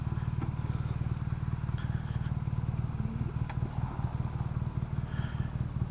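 A 2016 BMW R nineT motorcycle engine runs steadily while riding on a test ride, with a continuous low throbbing drone and faint rattles on top.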